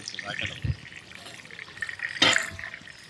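Water runs along steps outside a house, a close, splashing and trickling flow, with someone talking over it.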